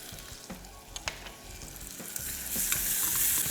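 Tomatoes go into a sizzling masala for Goan fish curry and are stirred, with scraping stir strokes over frying that swells into a louder, steady sizzle toward the end.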